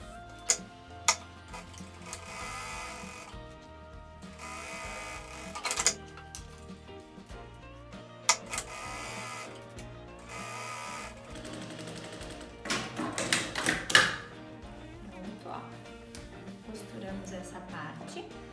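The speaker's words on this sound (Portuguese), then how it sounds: "vou fazer uma costura aqui na parte superior" A sewing machine stitching a seam along the top edge of a large lined fabric bag, with short bursts of stitching and ticking mechanical clicks, separated by pauses and speech.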